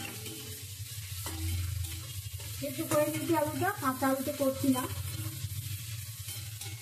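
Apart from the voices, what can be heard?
spices frying in a pan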